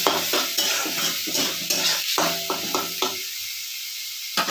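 Minced capsicum sizzling in a hot pan while a spatula stirs it, with scraping strokes that come in quick bursts over the steady fry hiss and then a brief quieter pause.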